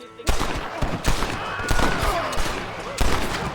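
Several loud gunshots from a revolver-style weapon in Red Dead Redemption 2, fired in spaced bursts with sharp reports and brief echoing tails, a voice speaking faintly between them.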